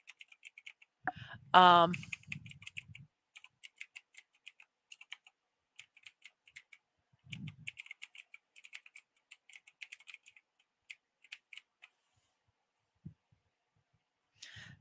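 Quick bursts of clicking on a computer keyboard come in short, irregular runs, fairly close and quiet, with a brief spoken filler word near the start and long gaps of near silence.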